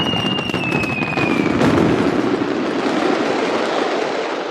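Fireworks boom and crackle in a visionOS app demo, with a rising whistle and then a dense, sustained burst of rumbling explosions that stays loud throughout.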